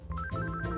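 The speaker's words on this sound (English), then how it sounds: "What's this? A distracting phone call?" Short electronic ringtone-style trill of a phone ringing in the Cyanide and Happiness video game, a single quick warbling burst with no talk.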